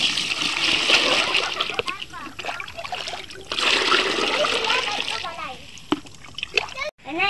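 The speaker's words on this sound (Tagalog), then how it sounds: "Kay ako hugas sa plato" Plates being washed by hand under splashing water: irregular nearby splashes, sloshes and trickles run for several seconds, with a few sharp knocks near the end and voices talking alongside.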